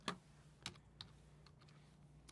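A few keystrokes are typed on a Windows computer keyboard, sharp isolated clicks spaced unevenly and then softer taps, close and quiet with no voice.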